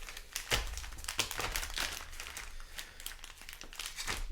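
Sealed Magic: The Gathering booster packs are shuffled by hand, giving close, quiet foil crinkling and rustling in irregular bursts with no talk.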